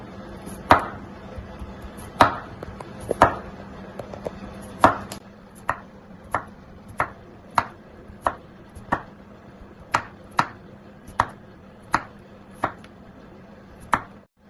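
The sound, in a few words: chopping onion, tomato and green chilli for salad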